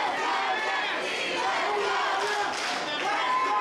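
Hometown crowd at a pro MMA fight night, VFS 13, roaring and cheering in a dense, steady wall of noise that holds for the whole stretch, with faint voices mixed in.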